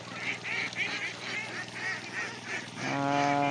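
Domestic ducks kept in a flock, a series of rhythmic nasal quacks and honks close by, repeating about every half second, then a longer sustained call at the end.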